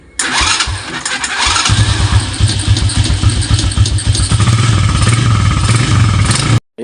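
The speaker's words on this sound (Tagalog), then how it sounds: "aandar yung motor natin." A motorcycle engine with a newly wired killswitch in the on position cranks briefly and catches. It then runs loud and steady with a low, uneven idling rumble and some mechanical clatter, and cuts off abruptly near the end.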